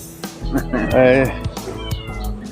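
A cat meows loudly and close by, one drawn-out call in the middle with shorter sounds around it, while a person talks over it.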